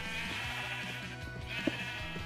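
Minecraft sheep bleat a few times over steady background music, the calls fairly close and clear.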